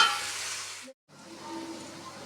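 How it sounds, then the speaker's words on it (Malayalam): Pork frying in a pan with salt and turmeric, giving a steady close sizzle that cuts out for a moment and then resumes. "ഉപ്പും മഞ്ഞൾപ്പൊടിയും ചേർത്ത് നന്നായി ഒന്ന് ഫ്രൈ ചെയ്യുക"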